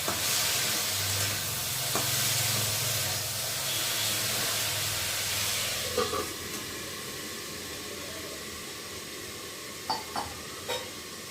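Potatoes frying in a home kitchen, giving a steady sizzling hiss with occasional stirring and clinks of a utensil against the pan, close and fairly quiet with no talk.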